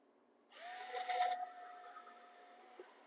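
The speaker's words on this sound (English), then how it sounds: "I'm going to drill a little hole at each end of the mouth." A small drill bores a hole in wood for a scroll saw project, with a brief whirring burst, then a lower steady hum as the motor runs on, and a small click near the end.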